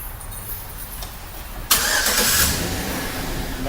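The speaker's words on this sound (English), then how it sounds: "Now that this truck is started" A 2012 Chevy truck's engine cranks and catches abruptly, then settles into a steady idle after a brief surge, heard close over a low background rumble.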